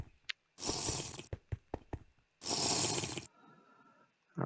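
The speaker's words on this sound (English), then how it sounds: "You can press for water." Water pouring from a Coke bottle dispenser in Minecraft VR, heard as two loud broadband gushes of about a second each. Short clicks and taps sit between them, and a faint watery trickle follows.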